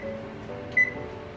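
A single short, clear electronic beep from an oven as it is set to preheat to 350 degrees, standing out over a low, steady kitchen hum.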